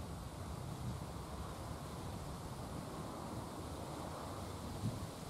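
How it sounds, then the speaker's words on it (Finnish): Wind blowing hard outdoors on a shore while fishing with a Rapala lure, a steady broadband rush with low gusty rumble throughout, no voices. "täällähän tuulee aika lailla"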